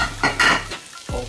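Butter goes into a hot pan for keema aloo mattar, with soft sizzling, stirring scrapes and a few utensil knocks against the pan over about a second.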